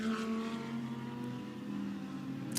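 A Haas RT Audi GT race car at the Spa 24 Hours endurance race holds a steady, droning engine note that stays loud and constant for the whole stretch, with no talk over it.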